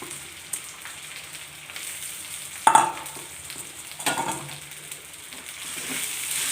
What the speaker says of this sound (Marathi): हलवायचे आहे छान